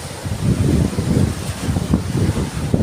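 Strong northeast monsoon (amihan) wind at sea off Burias Island roars steadily across the microphone, with waves surging and breaking underneath in a continuous rough rush.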